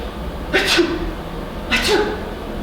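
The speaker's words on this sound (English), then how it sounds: "Oh, you sneeze. Let's sneeze 2 times." A small child sneezes twice, about a second apart, each a short breathy burst standing out against a quiet room with faint background noise.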